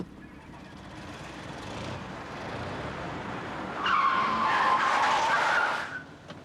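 A car pulls away with tires skidding and squealing, a loud screech rising over steady engine and road noise in the second half and then cutting off.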